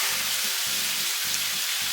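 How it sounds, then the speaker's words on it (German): A whole piece of sauerbraten beef sears in a hot pan with loud, steady, close sizzling and crackling, while a low rhythmic hum pulses underneath. "So, und jetzt braten wir das ganze Stück ab."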